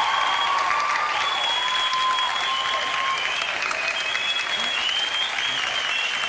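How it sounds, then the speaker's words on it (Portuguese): A late-night talk-show studio audience keeps up sustained, even applause from start to finish, dense clapping at a constant level with faint tonal sounds underneath. "Palmas."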